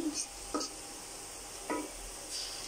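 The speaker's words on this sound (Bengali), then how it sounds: "আমার পেঁয়াজটা ভাজা হয়ে গেছে, আস্তে আস্তে আমি মশলাটি দিতে থাকি" Spices go into frying onions and are stirred, heard as a few faint, separate scrapes and clinks of a spoon against the pan in an otherwise quiet kitchen.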